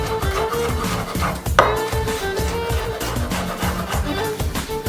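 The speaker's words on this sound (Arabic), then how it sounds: "وهسه دا أنعمهم" A knife finely chops onion and tomato together on a board, with quick, steady, close taps and one louder knock near the start, and no talking.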